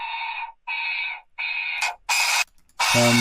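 Dry synth noise oscillator from a Kling Klong preset, played without Decapitator distortion: a run of about five sharp, gated bursts with short silent gaps between them, the later ones brighter and fuller. No other sound accompanies them.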